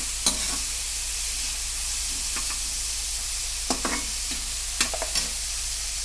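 Onions fry in oil for egg curry, with a steady low sizzle and a few sharp clicks from a spoon or spatula stirring the pan.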